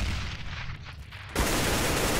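Gunfire during a Counter-Strike match: a sustained, loud, dense roar of rapid shots through a window fills the second half, after a rumbling lead-in.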